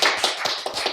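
A few people clap and tap their hands in a quick, close round of applause at the end of a casual talk show episode, a handful of brisk, uneven bursts.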